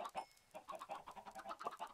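Chickens in Minecraft cluck in short, quick bursts, several birds overlapping in an uneven patter that is fairly faint and close, with no talking over it.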